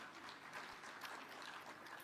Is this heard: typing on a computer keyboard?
no